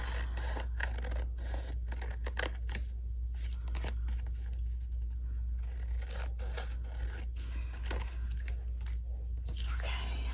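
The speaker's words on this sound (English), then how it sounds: "So we're gonna cut from this side." Scissors snipping through paper for a handmade journal, a series of quick crisp cuts and rustles close by under a quiet steady background hum, with soft talking in between.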